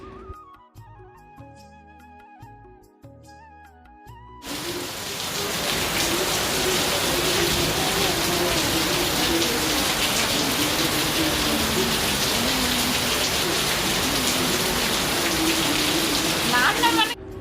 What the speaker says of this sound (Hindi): लेकिन तभी ना मतलब बारिश आने लग गई थी